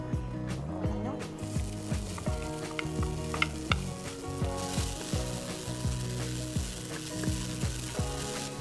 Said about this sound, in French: On va ajouter l'ail et l'oignon qu'on va faire revenir pendant 2 minutes.